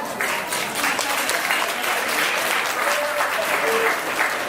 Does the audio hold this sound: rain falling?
no